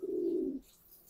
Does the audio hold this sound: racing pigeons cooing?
yes